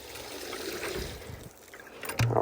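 Water from a hose test trickles and splashes through a newly installed house gutter, a close, uneven running dribble with a brief louder surge near the end.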